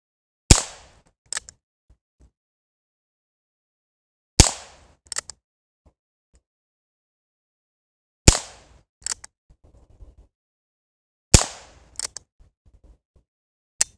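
A 16-inch-barrel Heritage revolver fires four sharp, loud shots spaced roughly four seconds apart outdoors, each followed by brief quieter clicks and handling noises.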